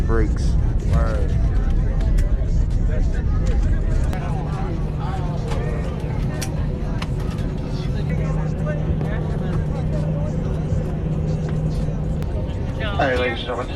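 A passenger airplane brakes on the runway after landing, a steady loud rumble of engine and wheel noise that gradually eases, with people talking over it.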